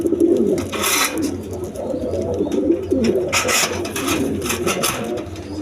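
Pigeons coo steadily in a low, continuous murmur from a flock of healthy birds, with occasional bursts of flapping wings or rustling in between.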